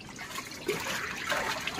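Water running from a hose pipe into a backyard swimming pool, a steady broadband splashing and trickling with small surges, fairly close and continuous.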